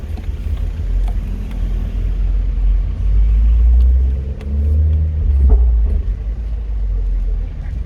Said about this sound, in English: to let you guys hear what this car's doing